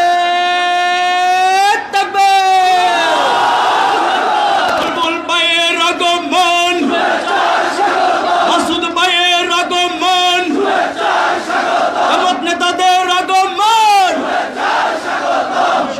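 A political rally crowd in Lakshmipur chants slogans loudly, voices swelling in repeated call-and-response bursts with a leader's amplified shouts rising over the massed response.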